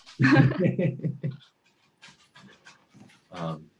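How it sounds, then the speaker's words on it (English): A dog pants and whimpers close by. Breathy bursts and soft whines come in short irregular bouts, with a louder spell at the start and quieter huffs after a pause. "the dog is really not happy about the lack of it. Mostly, I think he wants to be fed."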